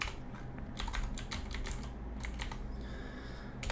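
Someone types R commands on a computer keyboard at moderate distance, with quick irregular clusters of key clicks and short pauses over a steady low background hum, and no talk.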